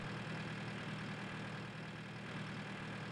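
Tractor engine idling in a farming video game, a steady low rumble with a constant drone that holds evenly throughout, no voices over it.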